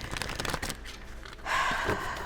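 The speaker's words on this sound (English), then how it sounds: "I didn't mean to shuffle" Tarot cards being shuffled by hand, quick papery riffling and soft flutters close up, with a louder burst of card friction near the end, no talking.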